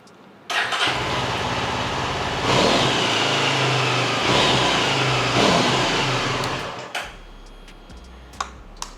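A 2022 Yezdi motorcycle engine fires up and runs close by, revving up twice to a throaty roar before dropping back and cutting off near the end.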